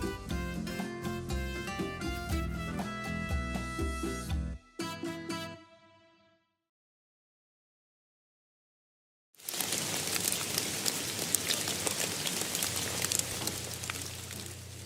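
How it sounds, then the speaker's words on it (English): Warm rain over Montevideo follows about five seconds of music and a few seconds of near silence, arriving abruptly as a steady, dense patter close by with a low rumble underneath. "A warm rain falls over Montevideo."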